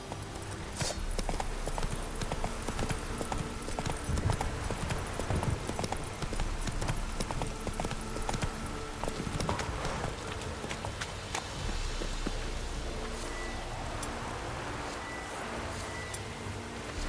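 Roach the horse in The Witcher 3: Wild Hunt galloping with rapid, continuous clip-clop hoofbeats at steady loudness, mixed with faint game ambience for over fifteen seconds.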